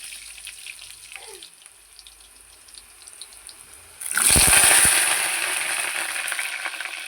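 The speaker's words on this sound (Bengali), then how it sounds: "তেল গরম হয়ে গেছে, আলুগুলো দেবো এখন।" Potatoes going into hot oil in a home kitchen: a quiet few seconds, then a sudden loud burst of sizzling that settles into a strong, steady crackling fry, no voices.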